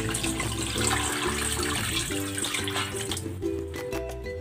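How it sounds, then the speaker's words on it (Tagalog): Steady rush of water pouring into a cooking pot with pork and mung beans, continuous and fairly loud, with a slight shift in tone near the end as the level rises. "Lagyan natin ng tubig."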